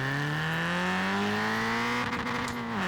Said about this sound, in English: hitting the limiter before every shift